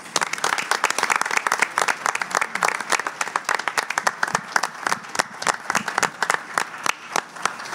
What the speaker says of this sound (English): Let's give our all-district members a round of applause